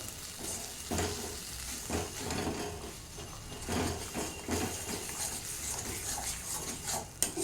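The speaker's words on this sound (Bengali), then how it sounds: "বন্ধুরা, আমার মশলাটা প্রায় কষা হয়ে এসছে।" Spice paste for a Bengali katla fish curry sizzles steadily in a pan as a spoon scrapes and stirs it in repeated strokes, with occasional clinks of metal against the pan and no talking.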